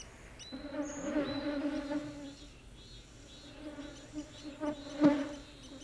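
A honeybee buzzing close by at a forest flower, a steady droning hum that swells and fades as it moves, with a brief louder burst near the end over a quiet outdoor background.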